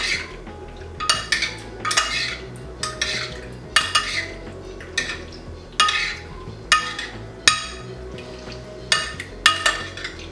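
Raw shrimp tossed with salt in a bowl, a utensil scraping and clinking against the sides in a steady rhythm of about one stroke per second, close and clear with no talking.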